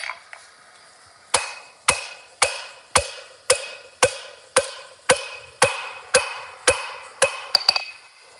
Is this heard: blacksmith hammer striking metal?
yes